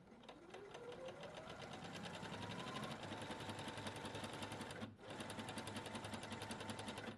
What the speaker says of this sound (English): Listen to the way it sews.